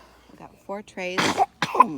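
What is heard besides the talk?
sneeze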